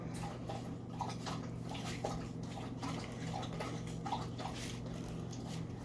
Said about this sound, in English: My dog is drinking water.